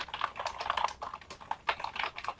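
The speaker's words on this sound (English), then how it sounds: "type in your title" Rapid, uneven keystrokes on a computer keyboard, close and fairly quiet, with short bursts and brief gaps between keys and no voices.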